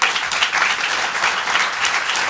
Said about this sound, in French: Acclamez les artistes, René Marc, Tex et tous les humoristes qui nous permettent de nous exprimer